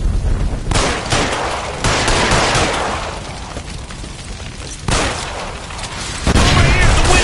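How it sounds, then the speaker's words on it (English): Dense, chaotic gunfire and explosive booms from a shootout by a kitchen stove's gas line in the L.A. Noire video game, loud and continuous with bursts swelling at intervals, voices shouting underneath. "Shoot the gas line, Cole,"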